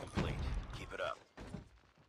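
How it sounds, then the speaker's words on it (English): Mechanical clicks and clacks of a magazine being swapped and a weapon being reloaded in Call of Duty Mobile, with dense game sounds around them and a voice speaking briefly over the action. "Changing mag."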